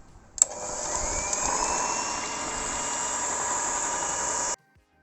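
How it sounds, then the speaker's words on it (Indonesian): An electric mixer whips dragon fruit ice cream, starting abruptly and holding a steady, loud whirring drone for about four seconds before cutting off. "Kita mulai mixer kurang lebih 20 menit."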